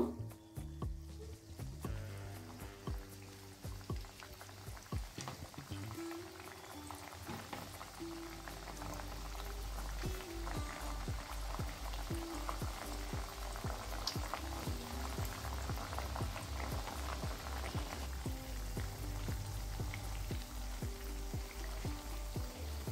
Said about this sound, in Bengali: এবার বাকিগুলোকেও একইভাবে ভেজে নেব।